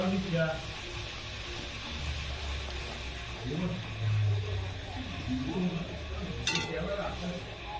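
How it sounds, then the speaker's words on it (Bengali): Luchi fry in hot oil with a continuous close sizzle and bubbling, punctuated by clinks of a utensil against the pan, while a voice talks over it. "এইভাবে একটু লাল লাল করে ভাজবে তাহলে খুব সুন্দর হবে লুচিগুলো"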